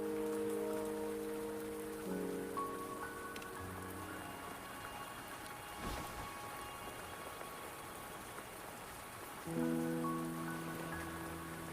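Steady rain falling in the video game Wuthering Waves, a continuous hiss of drops on surfaces beneath soft sustained musical tones, even and moderately loud throughout with no talking.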